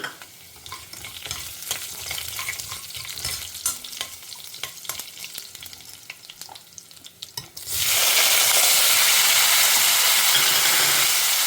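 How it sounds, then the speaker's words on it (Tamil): Mustard seeds splutter in hot oil with scattered sharp pops and crackles, then a loud, steady sizzling hiss takes over partway through and keeps going, close up and without talk. "கடுகு பொரிய ஆரம்பிச்சுட்டு"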